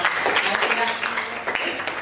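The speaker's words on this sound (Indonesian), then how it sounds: "beri tepuk tangan ya untuk teman-teman" Students in a classroom clap for their classmates after a biology lesson, a dense, steady patter of hands lasting about two seconds with voices mixed in.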